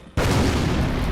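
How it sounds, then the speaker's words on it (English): A grenade explosion thrown by soldiers hits suddenly after a brief quiet moment, then a loud, dense boom rolls on with sustained rumble to the end. "Soldiers, throw your grenades!"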